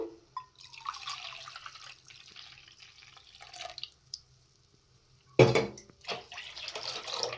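Quiet kitchen clinks and drips, then a sudden splashing pour of one cup of water into a vessel for making poha (flattened rice) payasam with milk, trickling on for a couple of seconds.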